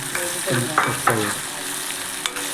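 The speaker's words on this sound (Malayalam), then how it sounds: "ഒക്കെ ഒന്ന് മൊത്തത്തിലൊന്ന് വഴറ്റി ചൂടായി വരുമ്പോൾ അതിക്ക് സവാള ഇടാം." Sliced onion with salt sautés in a hot pan with a dense, close sizzle, broken by a few quick scraping stirs that rise and fall over a couple of seconds.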